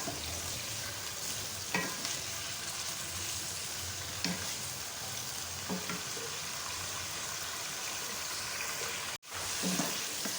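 Chicken fries in a pan with a continuous sizzle, punctuated by a few scraping stirs and a brief break near the end, no talking.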